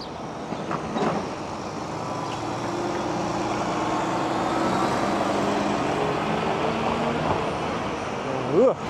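A garbage truck rumbles along a city street at dawn in Toronto's St. Lawrence area, a steady low engine drone with traffic noise, growing slightly louder then fading, under occasional faint voices.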